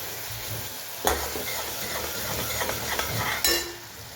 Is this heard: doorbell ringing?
no